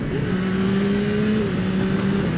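A 2021 Yamaha MT-09 SP motorcycle pulling hard on a ride, its engine a loud, steady drone with rising tone, under heavy wind noise.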